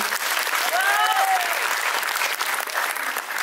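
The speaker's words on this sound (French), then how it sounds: "on peut l'applaudir quand même" A crowd claps steadily at a Lady and Lord pageant evening on Réunion, dense sustained applause filling the room with a brief whistle-like tone rising through it early on.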